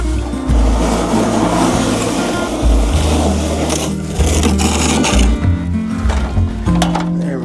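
A Snow Joe snow blower clearing snow from a deck runs loud and close, its motor droning unevenly with surges and dips as it works.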